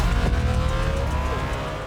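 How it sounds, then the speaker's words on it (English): Bugatti naturally aspirated V16 engine running in a hybrid car, a loud, dense engine roar holding steady for about two seconds. "there won't be anything around with the naturally aspirated V16, which is going to have this unique sound"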